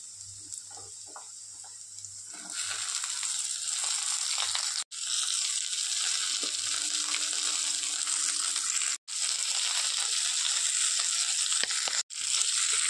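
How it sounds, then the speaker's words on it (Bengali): Suji upma vegetables, with cashews and salt, frying in a pan with a steady broadband hiss that swells louder after a couple of seconds and runs continuously, broken by a few brief silent gaps. "একটু ভাজা ভাজা করে নিয়েছি, এবার বাকি সবজিগুলো দিয়ে দেব।"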